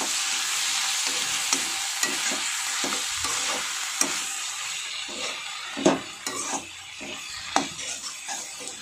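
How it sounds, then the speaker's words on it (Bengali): Vegetables frying in hot oil with ginger-garlic paste make a continuous close sizzle, punctuated by repeated scrapes and knocks of a utensil stirring against the pan; no one speaks. "এবার ভালো করে একটু ভাজতে হবে এর সাথে একসাথে"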